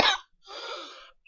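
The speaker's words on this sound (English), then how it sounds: "Sorry for the cough and everything" A single sharp cough bursts out up front, followed by a shorter, breathier rasp of a second cough, close and fairly loud with no talking around it.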